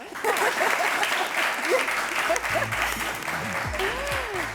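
An audience claps in a sustained burst of applause with some voices mixed in, running steadily from start to finish.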